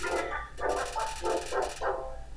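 A cartoonish dog in the video game Undertale barks five times in a quick, evenly spaced series, loud and close.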